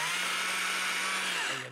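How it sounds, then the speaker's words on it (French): A chainsaw cutting wood outdoors, a loud, steady high-pitched engine whine held through a short burst before trailing off at the end, with no talk. "Donc, j'utilise la scie mécanique."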